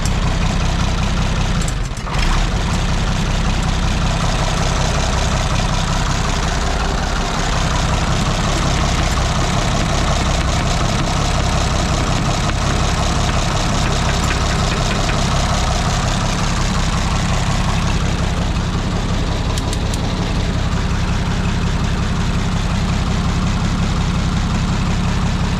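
An Oliver 77 tractor engine idles in the snow after a hard start, a loud, close, steady low rumble with an uneven, slightly lumpy beat throughout and no talk.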